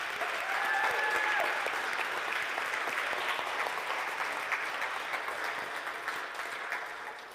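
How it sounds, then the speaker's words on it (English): Audience at a church talk on love and sharing breaks into sustained applause, dense clapping filling the room and slowly tapering off toward the end, with no voices over it. "I think that deserves another round of applause."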